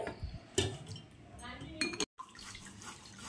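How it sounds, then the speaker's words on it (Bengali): Raw mango pulp being pressed through a kitchen sieve, with clinks of a utensil against the strainer and wet, squelching scrapes in a short, irregular sequence, moderately close and fairly quiet. "তো এই যে একটা ছাঁকনি নিয়েছে, এবার আমি ছেঁকে নিচ্ছি এইভাবে।"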